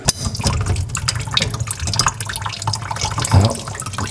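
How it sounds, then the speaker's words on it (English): Water drains from a bathroom sink being converted from single to double, a steady wet gurgling and trickling close by with small drips and splashes, no voices. "Let that water drain."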